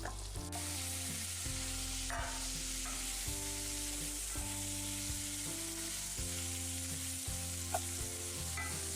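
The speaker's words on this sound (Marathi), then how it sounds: "यामध्ये थोडंसं बटर आणि आपले कापलेले पनीरचे तुकडे यामध्ये ऍड करा।" Cut paneer pieces frying in butter in a pan on a gas stove: a steady sizzle runs throughout, partly masked by louder background music with no talking.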